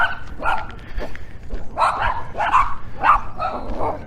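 Several small dogs bark and yip in a rapid, overlapping volley close by, with short pauses between bursts and a faint whimpering edge.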